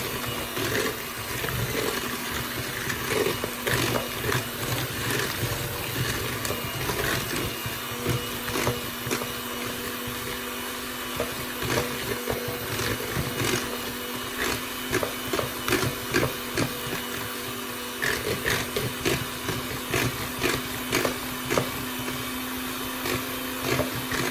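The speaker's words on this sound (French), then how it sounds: "On va fouetter ça jusqu'à ce qu'il soit bien ferme et bien blanc." An electric mixer whips mascarpone cream with sugar in a kitchen, a steady whirring hum with rattling, uneven scraping texture that runs continuously at moderate level, with no talk.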